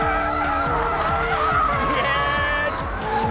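McLaren 720S drifting with its variable drift control engaged, the engine roaring loud and close under a sustained, wavering tire squeal with repeated gear-shift sweeps.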